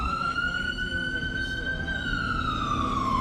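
A police, fire or ambulance siren wails at a street scene with several emergency vehicles, a loud steady rising and falling tone over traffic rumble.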